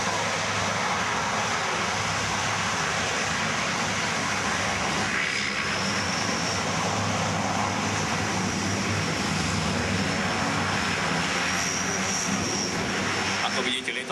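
A Spartan aircraft with a Rolls-Royce engine turns and taxis to its stand, a loud, continuous engine roar with a rising whine, while someone speaks over a loudspeaker throughout.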